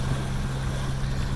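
A boat's motor runs steadily while cruising, a constant low drone with a strong low hum under wind and water noise; the engine has been puffing steam from its exhaust, on a river trip from Gulf Shores toward Demopolis, Alabama.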